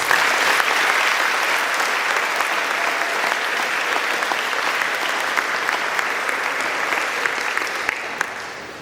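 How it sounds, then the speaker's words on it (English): A school audience at an academic awards ceremony claps steadily for honored students, a dense, even wash of applause that holds for several seconds before tapering slightly at the end. "Would you give these students an applause?"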